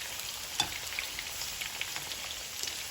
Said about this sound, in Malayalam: ഞാൻ വെജിറ്റബിൾ ഓയിലാണ് ഫ്രൈ ചെയ്യുന്നത്